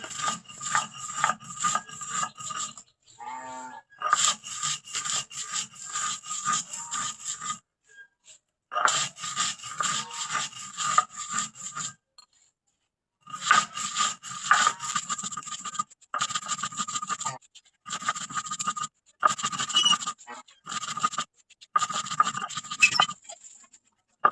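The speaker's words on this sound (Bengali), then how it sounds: "আমাদের গ্রামে এইভাবেই খুদের বড়ি দেয়া হয় আর এইভাবেই শিলে বেটি" Broken rice being ground by hand on a shil stone slab for winter khuder bori, a rough rhythmic rasping and rubbing in repeated bursts with short pauses, close and fairly loud, no talking.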